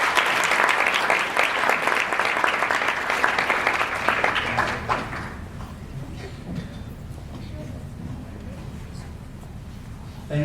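An audience claps warmly to welcome a speaker at a Rutgers event, loud sustained applause for about five seconds that then fades out into quiet room noise.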